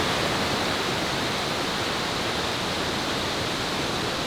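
Waterfall at Plitvice Lakes National Park in Croatia, a steady, loud, close roar of falling water filling the whole clip without a break, with no voices.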